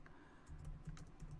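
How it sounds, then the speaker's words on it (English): Someone types keywords on a computer keyboard, a quick run of soft key clicks and taps heard up close and quiet, with no talking. "I'm going to start typing in keywords"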